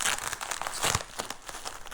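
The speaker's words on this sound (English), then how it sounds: "We got some nice bubble wrap" Crinkly plastic bubble wrap packaging being pulled open and handled up close, a run of irregular rustles and crackles with a sharp crunch near the middle.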